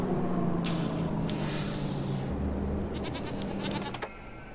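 Goats bleat in a pen in Farming Simulator 25 on the Hutan Pantai map, with a few drawn-out bleats and airy hiss over constant background noise, fading slightly toward the end.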